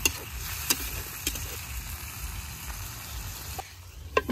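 Fresh river fish stirred and fried in a pan in a village kitchen, a low continuous sizzle with a few sharp clinks and scrapes of the stirring spoon.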